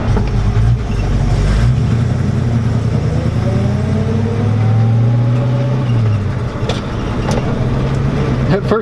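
A 1972 Dodge car drives slowly on new tires, its engine droning loud and close, with rising and falling pitch as it revs through a sloppy first-to-second gear shift and on into the next gear.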